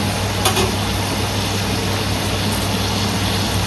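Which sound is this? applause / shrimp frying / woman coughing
shrimp frying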